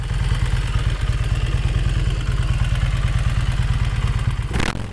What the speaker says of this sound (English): the Arch 1S is equipped with a beastly 2032cc twin V engine